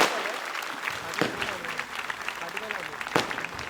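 A crowd at a political rally breaks into sustained applause, a broad, continuous clapping that stays fairly loud while a voice carries on talking over it.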